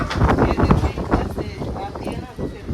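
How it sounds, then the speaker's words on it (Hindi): Strong, gusty wind roars across an open outdoor spot during a dust storm, buffeting the microphone with broad low rumble and surges that swell and ease throughout. "हाँ, इधर काफ़ी तेज़ हवा है ना।"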